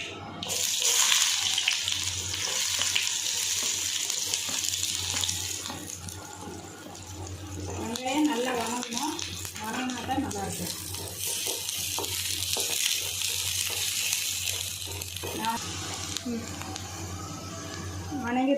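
Onions and mustard seeds frying in sesame oil for a dried-fish thokku, a constant sizzling hiss under a voice talking through most of it.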